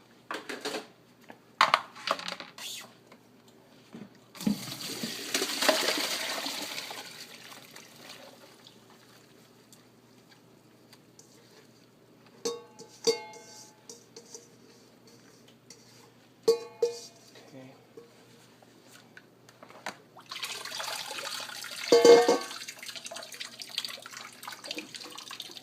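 Salted water drains from cabbage soaked a full day for kimchi, heard as intermittent splashing, trickling and wet crunching of the leaves in a sink, with quiet gaps and a longer run of flowing water toward the end.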